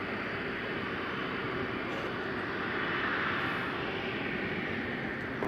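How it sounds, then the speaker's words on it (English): An Air Canada Boeing 777-200 jet airliner at Toronto Pearson gives off a steady, loud broadband engine roar with a constant rushing quality, unbroken and without talk. "Air Canada 880 to Zurich, 777-200."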